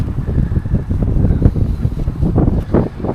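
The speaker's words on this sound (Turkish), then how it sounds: "rüzgar da öyle bir esiyor ki" Strong wind pounds the microphone at a bicycle campsite in Gölköy, Bolu, in loud, uneven low-pitched gusts, rising and falling throughout.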